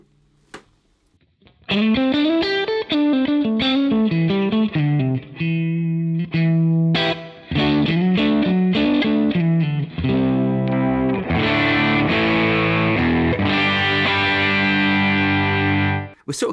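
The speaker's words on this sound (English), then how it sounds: "we're sort of getting into that overdriven vintage Marshall sort of sound" Electric guitar through a Marshall DSL20 valve amp with the gain turned up gives a gritty overdriven vintage tone. Loud, steady riffs and sustained chords play continuously for about fifteen seconds after a quiet start, with no talking.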